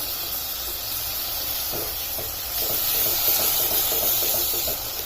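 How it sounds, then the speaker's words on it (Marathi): Tomato paste or grated tomato hitting onions and gram flour fried golden in oil, giving a steady loud hiss and sizzle that swells partway through, with faint clinks, no talking. "त्यात घालायची आता ही आपली टोमॅटोची पेस्ट म्हणा किंवा मग हे किसलेले टोमॅटो"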